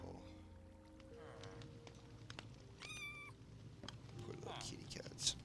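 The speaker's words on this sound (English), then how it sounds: "Poor little kitty cats." Cats meowing in the video game Minecraft, several short high mews over a quiet game ambience with low background sounds, fairly faint.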